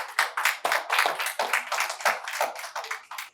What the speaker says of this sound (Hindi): बहुत बहुत स्वागत है, तालियां रुकनी नहीं चाहिए।